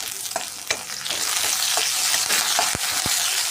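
Curry leaves fry in oil alongside oil-roasted peanuts for a Vidarbha-style jowar flour ukad pendi, producing a loud, close, dense sizzle with occasional scraping stir knocks.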